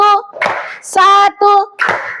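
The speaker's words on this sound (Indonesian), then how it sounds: "tepuk tangan dulu buat kita semua" A group claps together in a counted clapping game at a religious-studies class, a few sharp bursts of hand claps alternating with loud chanting voices close by.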